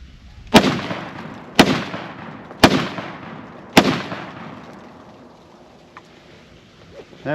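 Ruger Mini 14 rifle firing .223 rounds outdoors, four sharp loud shots about a second apart, each trailing off into a long echoing decay.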